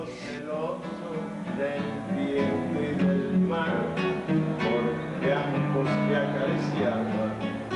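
Traditional Cuban trova music from Manzanillo plays steadily, with a warm acoustic ensemble sound of strummed strings and melodic lines, moderately loud and continuous.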